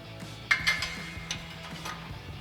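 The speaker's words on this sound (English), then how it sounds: "Now we're going to snug these down with our 14mm socket and swivel adapter." A hand ratchet with a 14mm socket and swivel adapter tightens exhaust nuts under a Toyota Tacoma, giving faint, quick clicking ratchet strokes with a couple of sharper metallic knocks.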